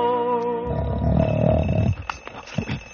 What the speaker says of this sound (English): And all that Rip did was just sleep and snore.